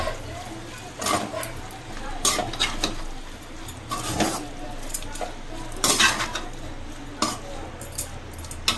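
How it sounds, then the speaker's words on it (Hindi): Paneer being stirred into beans frying in a pan, with a spoon scraping and clinking against the metal in several separate bursts over a low sizzle, close and moderately loud. "हम अस पावे पनीर मिक्स कर लेंगे"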